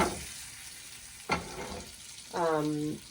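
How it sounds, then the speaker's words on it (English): Butter melts in a pan with sage and thyme leaves, a faint soft sizzle with a brief scrape and a short louder hissing burst near the end, heard alone without talk. "now as my butter is melting into this pan"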